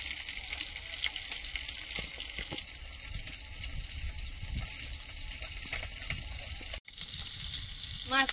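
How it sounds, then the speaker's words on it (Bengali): Pati fish fry in a pan outdoors, giving a soft, steady sizzle with scattered faint pops and clinks, fairly quiet and continuous. "মাছগুলো ভাজা হয়েছে, প্লেটে তুলে নেব।"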